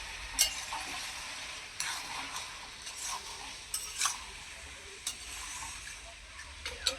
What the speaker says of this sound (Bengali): এখন নেড়ে ছেড়ে দেবো